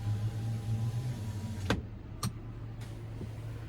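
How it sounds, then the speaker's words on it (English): Power sliding rear window on a 2024 Chevrolet Silverado 1500 RST Z71 truck, heard as a low motor hum over the cabin background, followed by a few sharp clicks as the glass moves and stops. "And we have the power sliding rear window."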